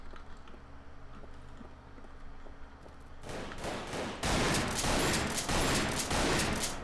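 Gunfire in the shooter game Double Action: Boogaloo, starting with quiet game ambience and then breaking into a loud, dense burst of repeated shots that keeps up to the end.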